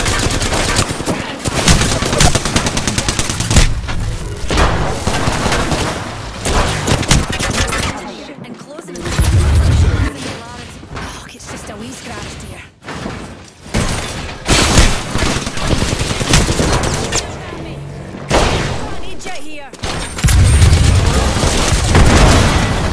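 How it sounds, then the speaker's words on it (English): Heavy gunfire in the battle royale shooter Apex Legends, loud sustained bursts and rapid fusillades filling most of the stretch, with brief lulls, under intermittent in-game voice lines. "They're shooting at me."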